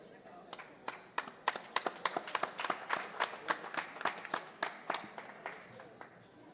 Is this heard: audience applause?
yes